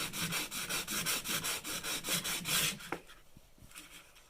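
Sandpaper rubbed briskly back and forth along a warped wooden baseboard, about a dozen steady rasping strokes close up, then a few lighter scrapes and taps as the sanding stops.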